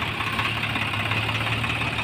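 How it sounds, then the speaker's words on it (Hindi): A Swaraj 744 XT tractor and JCB 3DX backhoe run in deep mud while pulling out a loaded, stuck trolley, a steady close diesel rumble with a knocking throb and no pauses. "जेसीपी लगाने के बाद ट्रैक्टर आसानी से निकल गया है"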